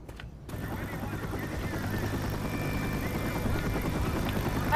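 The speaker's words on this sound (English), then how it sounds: "Helicopter, stop!" Helicopter rotor chopping in the Left 4 Dead video game, a steady loud thrum that grows slightly louder over several seconds after a brief quiet start, with faint game ambience around it.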